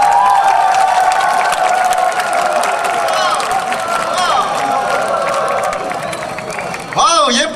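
An audience at a 2006 military unit entertainment show claps and cheers as a performer from a high school dance club comes on stage, a sustained loud wash of clapping with shouts, then a brief whoop near the end.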